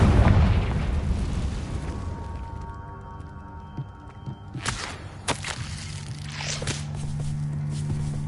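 A Confringo fire spell from Hogwarts Legacy goes off with a heavy booming blast that rumbles and fades, followed by sharp popping bursts and crackles a few seconds later.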